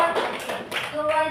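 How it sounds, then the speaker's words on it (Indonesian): A class applauding, a short burst of brisk clapping from several hands nearby, with a voice over it. "Oke, berikan aplaus dulu."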